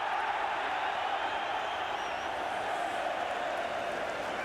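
Football crowd cheering at a referee's decision during an Arsenal versus Liverpool match in 1990/91, a broad distant roar of thousands of fans sustained evenly throughout.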